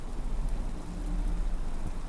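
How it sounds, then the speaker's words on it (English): Rain falling in the video game Incantamentum, a steady dense hiss of downpour with a low rumble underneath, continuous and fairly loud with no voices. "Oh, it's still rain."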